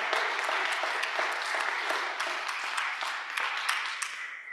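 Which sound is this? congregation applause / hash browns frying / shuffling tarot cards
congregation applause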